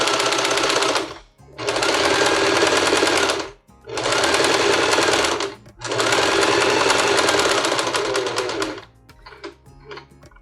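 A sewing machine stitches a fabric tablecloth in loud, close, continuous bursts, several long runs broken by brief pauses, then stops and leaves a few faint ticks.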